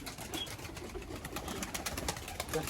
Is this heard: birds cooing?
yes